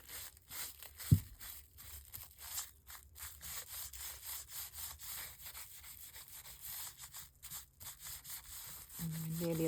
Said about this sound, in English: we're going to have to cut this with my really small scissors